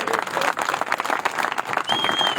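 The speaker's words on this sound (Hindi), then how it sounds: "जोरदार तालियों के साथ" A crowd at a grand opening celebration in Didwana breaks into dense, sustained applause, with a short whistle near the end.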